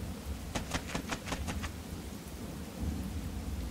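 Thunder crackles through a steady downpour in the video game One Piece Pirate Warriors 3, with a burst of sharp rumbling claps early on that then fade into continuous storm rain.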